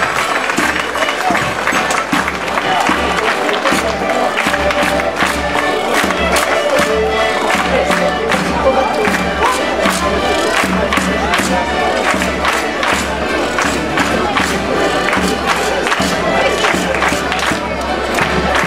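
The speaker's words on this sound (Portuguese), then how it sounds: "Forte aplauso para o grupo folclórico Os Moliceiros de Ovar." Loud, sustained applause and cheering from a crowd at an outdoor folk festival, greeting a Portuguese folk dance group; dense continuous clapping with shouts throughout, near and full.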